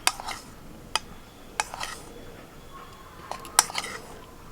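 A spoon clinks against a steel bowl while cornflour is measured out: a handful of sharp metallic taps spread irregularly over a few seconds, close and fairly quiet against a hushed kitchen background.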